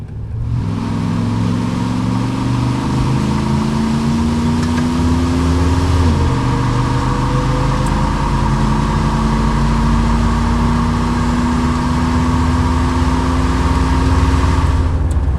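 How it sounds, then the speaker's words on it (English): A 1986 Chevrolet Monte Carlo SS with a 5-liter V8 and 35K miles accelerates on the road, its engine note climbing steadily, dipping at one gear change midway, then rising again, loud and close from inside. "But we'll go ahead and roll into the throttle here."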